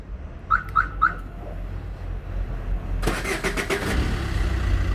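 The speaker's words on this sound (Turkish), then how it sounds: "dizel olduğu için kilitliyken çalıştırmak daha güzel" Three short chirps from a car's keyless entry system ring out, then a diesel car engine with keyless start cranks to life and settles into a loud, rumbling idle nearby.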